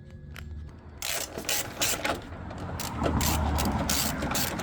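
Ratchet tightening engine mount nuts on a Ford Focus ZX4, a close, steady run of rapid mechanical clicking that grows slightly louder partway through, with no talking.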